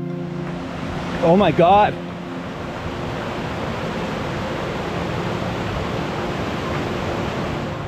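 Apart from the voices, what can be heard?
waterfalls rushing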